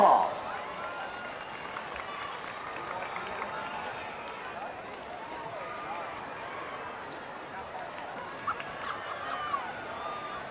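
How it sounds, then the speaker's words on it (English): A crowd in the stands at a high school football game between McAllen and Weslaco produces a broad, steady wash of applause and cheering that continues throughout, with an announcer talking over it. "Let's give them a round of applause."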